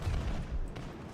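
Gunfire in the Battlefield 2042 video game, a short spell of muffled, booming low shots rolling into one another, fairly quiet, without talk.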